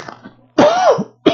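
A man coughs and clears a scratchy throat, a short rough hack followed by a louder harsh clearing and another burst, close to the microphone.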